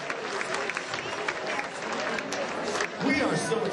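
Audience in a banquet hall clapping steadily, a continuous moderate patter of many hands that swells slightly near the end, with a voice speaking over it.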